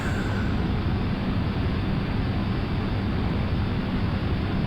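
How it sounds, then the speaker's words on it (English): Small propeller plane in flight, approaching to land at Napier, heard as a steady, loud engine drone with broadband wind rush that stays constant throughout with no talking. "Right, come on little plane, get round the corner."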